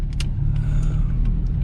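A Volkswagen Passat LS, a low-mileage classic with 25,000 km, cruising steadily with a loud, continuous low engine and road rumble throughout and no voices.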